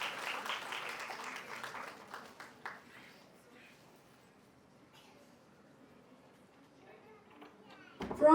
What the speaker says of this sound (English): Please give a huge round of applause to our kids to encourage them